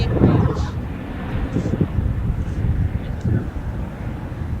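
A Delta Boeing 767-332ER on arrival at LAX, a distant low jet rumble mixed with wind buffeting on the microphone, while someone talks over it.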